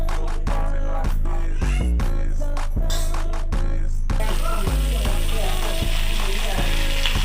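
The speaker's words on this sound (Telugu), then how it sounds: "చూపిస్తాను, డీప్ ఫ్రై చేస్తున్నాను." Sabudana papads deep frying in hot oil, a loud, dense, steady sizzle with intermittent crackles and clanks, close up.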